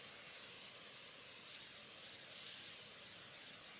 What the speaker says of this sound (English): spraying the bottom of this